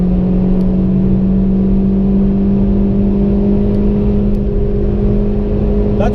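A race car runs at full throttle on the Nürburgring, a loud, unbroken in-cabin engine drone holding a steady pitch with a brief rising whine at the very end.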